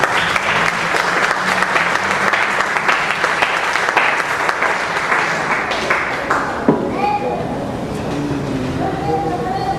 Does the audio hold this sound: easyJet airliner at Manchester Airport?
no